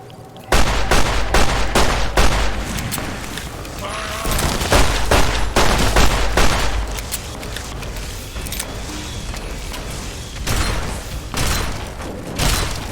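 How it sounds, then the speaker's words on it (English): Heavy gunfire in Fallout: New Vegas, with repeated loud shots and fast volleys booming close, layered over a low rumbling drone, and brief pauses between bursts. "I'm just gonna fucking shoot them"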